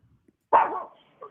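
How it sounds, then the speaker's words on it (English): A single dog gives one loud, close bark that trails off briefly, with a fainter yip following moments later, heard over a phone call on a talk radio show. "Sorry about my dog."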